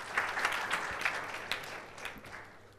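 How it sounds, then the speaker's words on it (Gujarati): Audience applause in a gathering during a spiritual discourse, steady mid-level clapping spread over about three seconds with small bursts, fairly quiet and somewhat distant. "વાહ, તાળીઓ પાડો"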